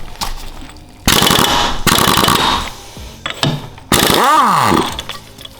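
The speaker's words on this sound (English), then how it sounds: "I think I can use the impact right now to just remove it, the flywheel." An impact wrench removing the flywheel from a 2014 Kawasaki KX450F dirt bike: several loud, close bursts of rapid hammering rattle lasting a second or so each, the last one winding down in pitch as it stops, with quieter pauses between.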